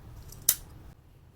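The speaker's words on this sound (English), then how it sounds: "make chain 1 and cut off your yarn" A single quick snip of scissors cuts through crochet yarn after a finished strap of a two-toned corset top. The sound is close and crisp, followed by near silence.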